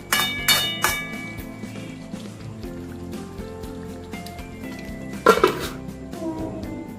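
Metal lid set back onto a pot of dhaba-style chicken with potatoes, a few sharp clanks and rattles near the start and again around the middle, with quiet kitchen sounds between.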